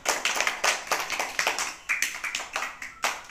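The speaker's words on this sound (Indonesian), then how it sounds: "Tepuk tangan untuk kalian semua" Fifth-grade schoolchildren in an Indonesian primary classroom clapping in a rhythmic patterned beat, sharp claps in quick groups for about three seconds, fairly quiet.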